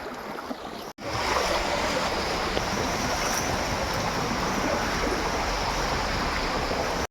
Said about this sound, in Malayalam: കലങ്ങിലോട്ട് കഠിനമായിട്ടുള്ള വെള്ളം അങ്ങോട്ട് പോകുന്നുണ്ട് കേട്ടോ